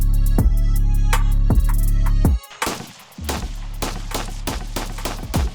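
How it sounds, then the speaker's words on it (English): Loud gunshots crack nearby, three spaced single shots followed by a quick run of rapid fire, with ringing echoes between. "So we're shooting off a bunch of guns."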